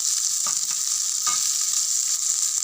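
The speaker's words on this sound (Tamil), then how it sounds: "வெங்காயம் கொட்டிக்கிட்டு வதக்கிக்கலாம்." Onions sautéing in hot oil for a sardine fish curry, a steady close sizzle with a couple of soft stirring scrapes and no talking.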